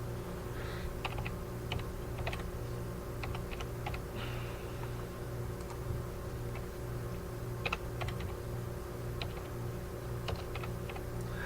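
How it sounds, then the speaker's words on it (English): Coordinates are typed on a computer keyboard in quick, uneven key taps, close and clear, over a steady electrical hum. "You then hit locate, type in your coordinates"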